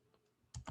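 Keys on a computer keyboard are tapped, with a couple of quick, close clicks following a near-silent moment.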